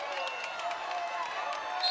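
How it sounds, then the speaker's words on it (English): A volleyball crowd at a state championship final in an arena cheers loudly and steadily at championship point, with a commentator talking over the roar. "The crowd is getting wild."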